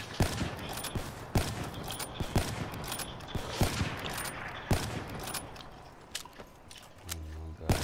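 Sharp, separate gunshots ring out at irregular intervals in a one-on-one video game match, each crack distinct against a low game backdrop, with a player talking intermittently.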